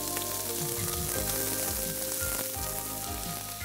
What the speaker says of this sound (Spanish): Dejamos que se rehogue bien la cebolla